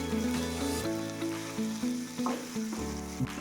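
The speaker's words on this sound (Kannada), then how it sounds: "ಕರಿಬೇವು, ಹಾಕ್ಕೊಂಡು 1 ನಿಮಿಷ ನೀಟಾಗಿ ಫ್ರೈ ಮಾಡ್ಕೊಳ್ಳಿ." Curry leaves fry in hot oil in a pan, a steady close sizzle with small crackles and stirring scrapes, no voices.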